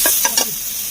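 Chicken biryani ingredients sautéing in a pan on a hot clay stove, a steady close sizzle with a few quick scraping stirs near the start, no voices.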